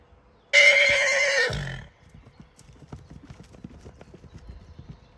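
A single loud, shrill stallion whinny rings out close by, then gives way to the shuffling clip-clop of hooves.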